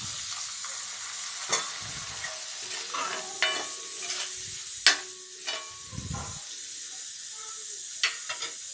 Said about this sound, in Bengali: এখন অল্প জল দিয়ে দেব।